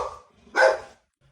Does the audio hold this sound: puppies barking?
yes